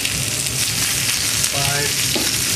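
Rack of lamb sears in a hot pan with a loud, continuous sizzle and spitting fat, the hiss holding steady throughout with brief tonal scrapes as the meat is shifted.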